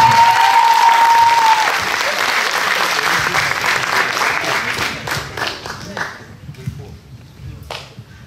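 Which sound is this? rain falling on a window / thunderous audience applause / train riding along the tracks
thunderous audience applause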